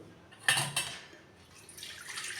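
Water drains from soaked rice being prepared for kajjaya, with two brief splashy bursts early on followed by a soft, trickling hiss that builds toward the end.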